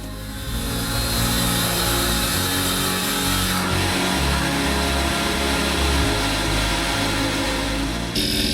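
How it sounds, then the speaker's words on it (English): A handheld circular saw cuts through fiberglass panel for a box on a Unimog conversion build, a steady loud motor whine with grinding cut noise running continuously from start to finish, close by, with no talk. "using his trusty skill saw to cut the fiberglass"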